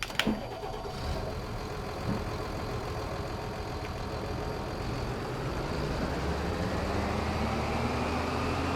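A Big Bud tractor engine in the video game Farming Simulator 22 cranks and catches with a sharp start, then settles into a steady, rattly idle that grows slightly louder.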